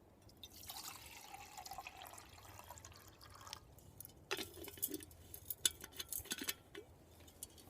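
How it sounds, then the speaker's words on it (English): Water poured into a metal canteen cup to cook rice, with a quiet trickle and splashing that becomes more irregular near the end, close and soft. "I'm going to use a cup of water with my rice"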